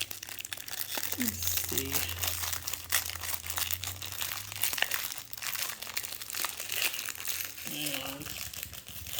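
Crackly plastic packaging on a heavily taped Kuru Toga mechanical pencil pack crinkles and tears in quick, irregular bursts close by, while a person speaks briefly over it.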